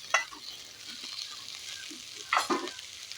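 Cooked chicken tossed into a pan for pasta, with a few sharp scraping stirs and a soft steady sizzle underneath, close by and without talk.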